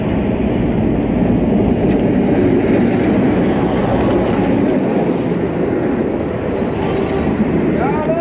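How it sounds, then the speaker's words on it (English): A Star Service passenger train from Los Mochis approaches Tequila station on Mexico's Pacifico Railroad, a loud continuous rolling rumble with clattering wheels and faint flange squeals, close by. "A Star Service train from Los Mochis approaches Tequila"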